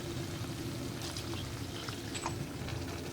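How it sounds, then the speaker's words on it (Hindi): Reserved water from boiling lentils is poured into a pot of red lobia curry, a steady splashing, gurgling pour heard up close over a constant background hum. "अब हम इसमें दाल बॉईल करते वक्त जो पानी निकाला था यही हम इसके अंदर डाल देंगे।"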